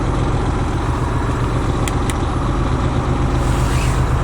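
A heavy haul truck's diesel engine runs loud and close, a dense steady drone with a faint rise late as the RPM is raised a little, and two brief high clicks near the middle.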